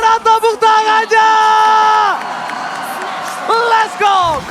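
Crowd at a Mobile Legends esports grand final whoops and cheers in loud bursts, with a close, excited caster's voice over the roar that fades and rises again.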